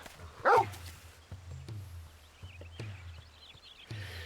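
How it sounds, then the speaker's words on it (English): A wolf pup in a Final Fantasy XVI video game gives a sharp yip, followed by soft scattered thumps, faint whimpers and light game effects in an otherwise quiet scene. "This is Torgal, a wolf pup raised in the duchy"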